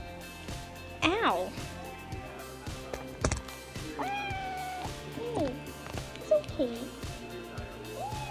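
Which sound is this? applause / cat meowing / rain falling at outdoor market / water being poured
cat meowing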